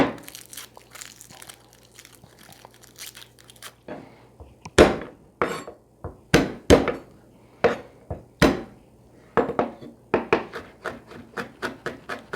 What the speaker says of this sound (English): So I'm going to mince 3 cloves of garlic.